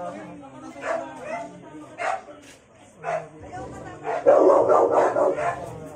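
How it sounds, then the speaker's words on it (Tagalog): A large dog barks repeatedly in short bursts from a moderate distance in a narrow Manila alley, with people talking over it. "naririnig niyo yung tawag, mukhang malaking aso to, pitbull siguro to"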